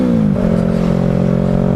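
A motorcycle engine runs loud and close, its steady throbbing drone shifting slightly in pitch as it holds speed.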